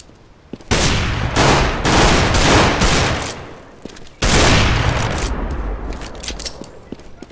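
Loud rapid gunfire from Counter-Strike GO on the Dust II map, two sustained bursts of automatic fire with a brief pause between them, close and dominant, echoing tails trailing off at the end.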